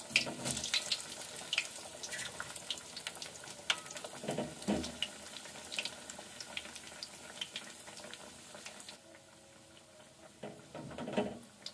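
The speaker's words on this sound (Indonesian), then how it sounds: "Masukkan risol ke dalam minyak yang sudah agak panas." Risoles drop into fairly hot frying oil and sizzle, a dense crackling hiss with scattered pops that eases toward the end, close and with no talk.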